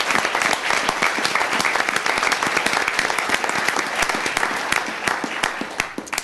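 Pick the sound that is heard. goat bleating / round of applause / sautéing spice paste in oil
round of applause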